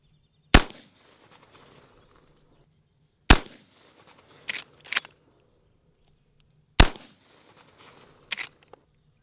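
Three sharp, loud gunshots from a Henry Axe .410 firing Aguila loads over a chronograph, spaced a few seconds apart, each with a short echoing tail and some faint handling clicks between.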